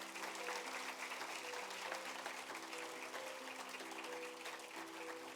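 A church congregation claps together in sustained applause, a dense crackle of many hands heard alone, with organ or keyboard chords sounding faintly beneath.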